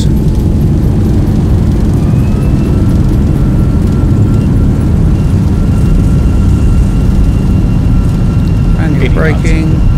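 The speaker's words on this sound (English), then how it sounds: "Reverse thrusters." A Boeing 737-800 in a flight simulator roars under reverse thrust on landing, a loud, steady, broadband engine rumble throughout with faint tonal whines above it.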